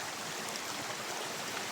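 Fresh water flows under a rock outdoors, a steady soft broadband rush with a faint trickle, continuous and fairly quiet throughout, with no talk.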